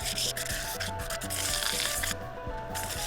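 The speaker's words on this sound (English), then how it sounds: "I'm going to do a quick hand sand the whole way around" Sandpaper rubs by hand around a turned wooden piece in a steady rhythmic scratching that repeats in quick strokes, close and fairly loud, with a brief lighter pause near the end.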